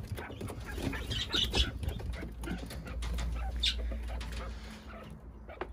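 Caged birds in an aviary with quail kept for eggs, calling and cooing in overlapping bursts at close range, with a low steady hum underneath and faint talk in the background.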